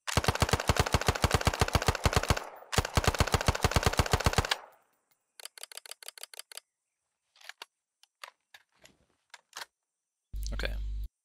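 Arma 3 gunfire: two long, rapid automatic bursts of loud, evenly spaced shots fill the first few seconds, followed by a shorter, quieter burst and then scattered single shots with silence between them, ending on a low thud.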